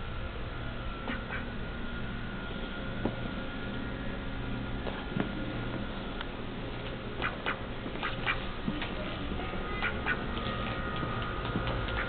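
A pet duck quacks now and then in short, scattered bursts inside a quiet office, with light ticking and tapping sounds in between.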